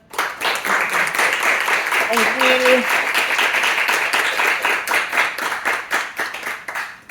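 Audience applause after a Meet a Scientist Series talk by a scientist: steady dense clapping fills the whole stretch, with a brief spoken thanks over it near the middle, tapering slightly at the end.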